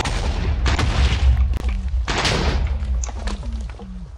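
Cannon blasts from a Transformers tank in a Minecraft mod: several heavy booming shots, then a run of short repeated thuds in quick succession, loud and close over a steady game rumble.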